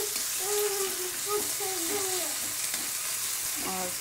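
Tomatoes go into onions frying in a pan for oats khichdi, giving a close, steady sizzle with stirring scrapes, while someone talks over the cooking.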